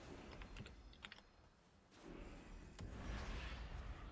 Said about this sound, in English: typing his name out